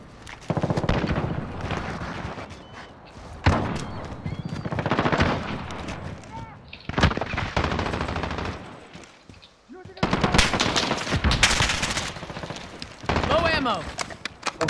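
Call of Duty: Modern Warfare gunfire erupts in repeated loud automatic bursts separated by brief lulls, with players talking excitedly between and over the shooting.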